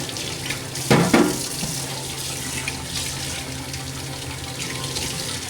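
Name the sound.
running tap water while cleaning a coffee machine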